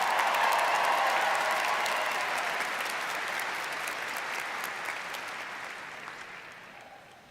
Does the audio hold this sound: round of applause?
yes